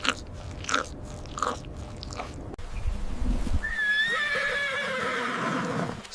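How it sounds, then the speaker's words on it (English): A small gray savanna wild horse gives a few soft, rough crunching noises, then a long, loud, quavering whinny that rises and trails off close by. "Small gray savanna wild horse."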